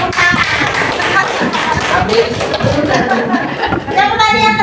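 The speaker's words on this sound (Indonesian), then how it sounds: "Boleh, tepuk tangan." A class of students applauding together in a classroom, a dense close patter of many hands clapping, with voices chattering over it.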